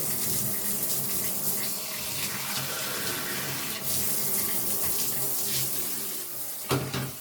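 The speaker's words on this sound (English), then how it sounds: "I'm going to turn the faucet back on in the shower" Water runs steadily from a shower faucet in an apartment bathtub after a water softener installation, a broad hissing splash that stays loud and constant, with a brief clunk near the end.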